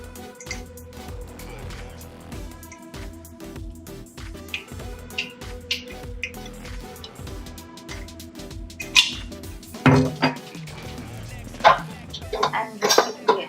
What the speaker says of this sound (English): And whisk it again